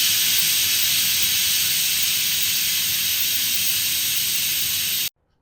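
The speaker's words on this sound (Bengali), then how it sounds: "এদিকে একটা হুইসেলস বেজে উঠেছে।" A pressure cooker on a gas stove lets off a loud, steady hiss of escaping steam with a faint whistling edge. It runs alone and unbroken for about five seconds, then cuts off abruptly.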